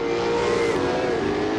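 A Supercars race car at Sandown Raceway locking its brakes and running wide: a loud, steady engine roar with a falling pitch through the middle as it scrubs off speed, recorded close with no voices.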